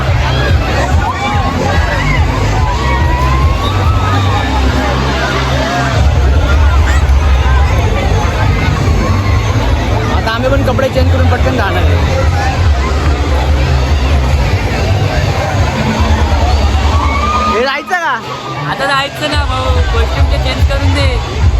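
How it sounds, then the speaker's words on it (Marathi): Dense crowd hubbub at a budget resort water park near Mumbai, a steady babble of many voices with splashing water mixed in, loud and continuous throughout with a brief dip near the end. "बघू शकता तुम्ही इकडे किती गर्दी आहे."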